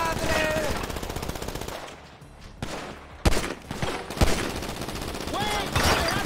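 Rapid bursts of GTA 5 gunfire crackle in dense volleys, pausing briefly before sharp single shots and more firing resume amid background game noise.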